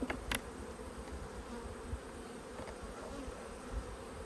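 Honey bees buzzing in an open hive in a eucalyptus area, a soft continuous hum of many insects with a few brief louder passes close by.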